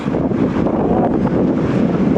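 Strong, continuous wind gusting across the microphone beside a highway, a loud roaring buffet with no speech.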